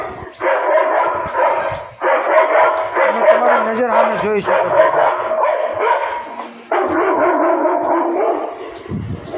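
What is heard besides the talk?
dog barking played by farm animal repeller device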